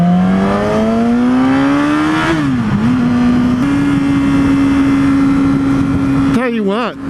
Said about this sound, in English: the engine braking on this thing is pretty monstrous